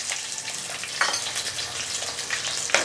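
Shallots, curry leaves, dried red chillies and cumin frying in oil for drumstick sambar, a close, lively crackling sizzle with bursts of spattering as ingredients hit the hot pan.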